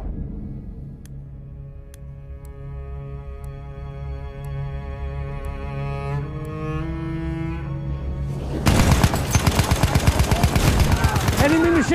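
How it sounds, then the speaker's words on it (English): Rapid, loud machine gun fire in Battlefield 1 bursts in around the two-thirds mark as a sharp, regular stream of shots, following a sustained tonal musical drone. "Enemy machine gun!"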